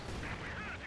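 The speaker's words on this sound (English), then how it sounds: "And it was Katyusha fire." A Katyusha rocket artillery barrage in Company of Heroes 2 lands as a dense, rumbling blast with whooshing streaks, loud but very brief.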